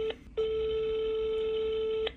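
Telephone ringback tone heard while calling a grandmother: a short beep, a brief pause, then one long, steady, loud electronic tone, clean and alone.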